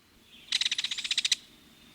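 A kingfisher gives a single piercing metallic rattle, about a dozen rapid, evenly spaced bright pulses lasting under a second, clear and fairly close against quiet background.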